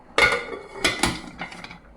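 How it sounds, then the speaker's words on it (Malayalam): A pressure cooker lid is closed in a home kitchen while puttu and chana curry are being made, giving a few sharp metallic clanks close by with short gaps between them. "കുക്കർ അടയ്ക്കട്ടെ."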